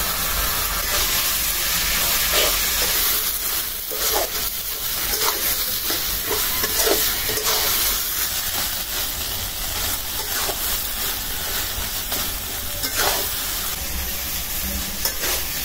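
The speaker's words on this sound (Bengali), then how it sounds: "এখন আমি নারিকেলটা দিয়ে অল্প একটু নাড়াচাড়া করে নামা ফেলবো।" Grated coconut being stirred into taro greens cooking with a hilsa fish head, a steady close sizzle and hiss under repeated scraping stir strokes, with no talking.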